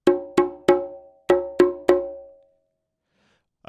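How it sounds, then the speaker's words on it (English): Six bright, ringing open-tone hand strokes on a conga, sharp attacks with short sustained tones, in an uneven rhythm, then silence and a faint final hit. "when I hit, I get a natural rebound with my fingers and a nice full open sound"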